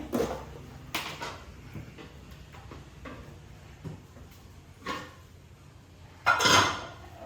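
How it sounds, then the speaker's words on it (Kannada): Raw chicken being washed in a cooking pot in a home kitchen during chicken biryani preparation; scattered close clinks and clatters of the pot, ending in a louder burst of handling noise. "ಚಿಕನ್ನು ತೊಳೆದಿಟ್ಕೊಳ್ಳೋಣ ಹಂಗೇನೆ"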